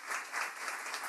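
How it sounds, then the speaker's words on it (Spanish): Audience at an official announcement of a presidential re-election in Venezuela breaking into applause: a brief, even patter of many hands clapping, fairly faint and distant. "un fuerte aplauso"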